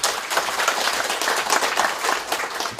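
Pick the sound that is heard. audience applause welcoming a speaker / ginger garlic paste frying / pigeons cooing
audience applause welcoming a speaker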